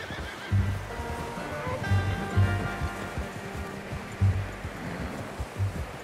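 A horse neighs several times in the video game Red Dead Redemption 2 against a dull, rustling background, the whinnies short and moderately close, with some soft thumps between them.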